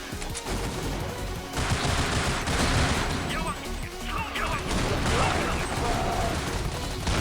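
Sniper rifle fire in Counter-Strike Online, dense game gunfire and impacts throughout, with someone talking over the shots.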